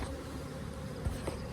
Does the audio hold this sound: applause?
no